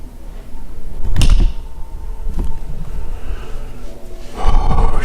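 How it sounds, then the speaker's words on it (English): A door pushed open during a night exploration of a reputedly haunted place, with a loud creak and scrape near the start and another heavy rasping movement toward the end over a constant rumbling background. "I'm gonna open this door."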